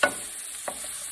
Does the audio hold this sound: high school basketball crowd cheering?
no